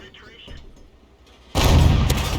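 Tank cannon fire in a tank video game strikes a T-34-85: a quiet rumbling lull, then a sudden loud blast and impact that carries on as a dense roar.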